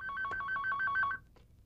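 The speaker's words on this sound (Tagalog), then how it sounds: "pakisagot yung telepono" A telephone rings with a rapid, warbling electronic trill repeated in quick bursts for about a second, then stops abruptly, followed by a brief soft click.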